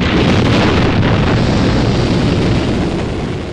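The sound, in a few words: rocket ignition in a James Bond film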